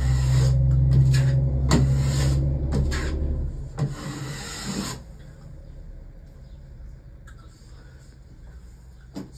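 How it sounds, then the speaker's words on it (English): A drywall knife scrapes and rubs as joint compound is spread over tape on trimmed foam set into drywall, a close, loud, repeated rasping that fades to quieter scraping strokes. "tape and mud your foam after you trim it"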